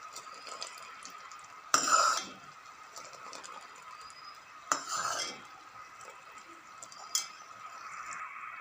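A thickening coconut candy mixture for coconut burfi is stirred in a pan, with three distinct scraping clinks of a utensil against the pan spaced a few seconds apart over a quiet, faintly bubbling background.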